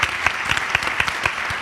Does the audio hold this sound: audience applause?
yes